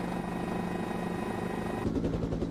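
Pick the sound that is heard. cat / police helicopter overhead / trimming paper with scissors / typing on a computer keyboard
police helicopter overhead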